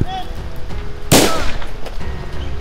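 A single sharp gunshot sound effect bursts out in a comedy skit, loud and close, with voices talking before and after it.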